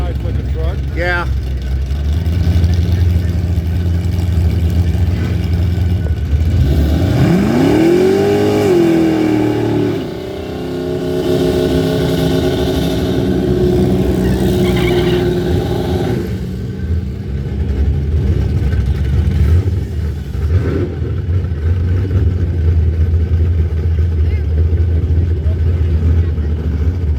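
A big-block Dodge truck and a blown Coyote Ford engine rev up, rising and falling engine pitch with loud rumbling swells over roughly half a minute, while people talk over the noise.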